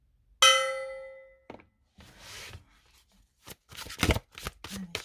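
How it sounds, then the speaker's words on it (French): A gong is struck once, ringing out brightly with a long shimmering decay, followed by scattered clattering and shuffling noises, likely cards handled during a tarot reading. "Un petit coup de gong."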